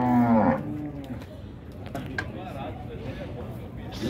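A cow or bull at a cattle fair in Dois Riachos, Alagoas, lets out a single loud moo at the start, then a busy crowd of people talking fills the rest with scattered knocks.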